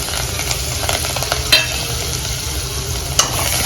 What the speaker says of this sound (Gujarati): હવે એમાં હળદર એડ કરી, કોથમીર નાખી દેવાની.